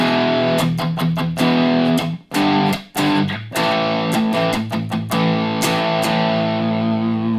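Heavily distorted electric guitar, an Enya Nova Go Sonic smart guitar on a high-gain distortion tone, plays loud, saturated chords with sharp rhythmic stabs and brief gaps, no voices.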